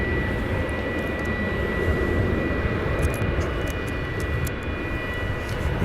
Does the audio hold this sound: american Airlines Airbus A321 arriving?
yes